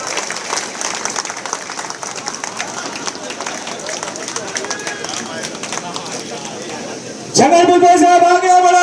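Crowd applause at a Nationalist Congress Party city and rural meeting, sustained clapping running under a loud voice over a sound system, with music cutting in abruptly near the end.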